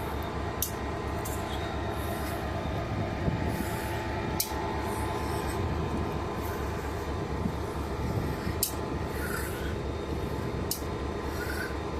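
A Norfolk Southern locomotive moves a grain train for the Susquehanna Railroad, a steady low rumble of rolling wagons with scraping, squealing wheel-on-rail rubbing and occasional sharp clanks.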